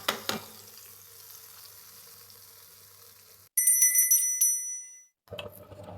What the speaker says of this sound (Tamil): சின்ன வெங்காயம், கொஞ்சம் பெருங்காயத்தூள் தாளிப்பு சேர்த்தலாம்.